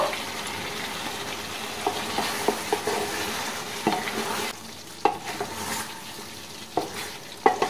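Lemon chicken sizzles in a pan right after green chillies go in, with steady frying hiss and repeated close clinks and scrapes of a spoon stirring.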